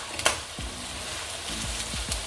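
Bacon and meat fry in a discada skillet with a light, steady sizzle, broken by several hollow clunks and scrapes as the pieces are stirred.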